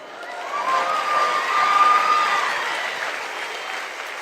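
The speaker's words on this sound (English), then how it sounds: "I'm not getting a lot of claps by young men" A crowd applauds steadily at a Turning Point summit speech by the Homeland Security Secretary, a dense sustained wash of clapping that swells slightly in the middle and carries on without a break.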